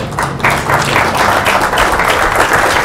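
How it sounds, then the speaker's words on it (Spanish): Audience at a municipal book presentation applauding the town secretary, a brief burst of fairly loud, close clapping that continues steadily for a few seconds with no speech over it. "les pido un aplauso, por favor."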